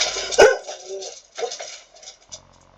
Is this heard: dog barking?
yes